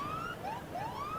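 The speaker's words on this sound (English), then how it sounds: "there goes the fire siren once again" A fire siren sounds at a cricket ground during a Test match, a faint, distant rising and falling wail heard briefly over low crowd ambience.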